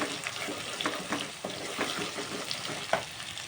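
Food frying in a pan with a steady crackling sizzle, broken by occasional sharp pops and the scrape of stirring, close and fairly loud with no talking.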